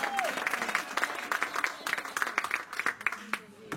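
A church congregation claps steadily and cheers during worship, with dense applause throughout and voices shouting over it.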